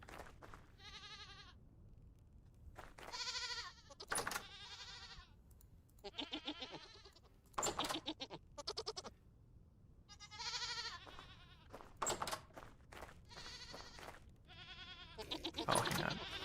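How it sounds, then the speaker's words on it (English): Goats in the Vintage Story video game bleat repeatedly in bursts of varying pitch, some near and loud, others softer, with no talking. "We've got like a whole bunch of different kinds of goats."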